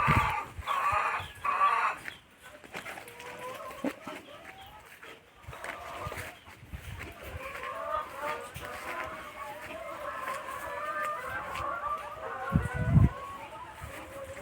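Chickens in a farm shed on a rural property cluck and call intermittently at moderate distance, heard beneath someone talking, with a few louder squawks near the end.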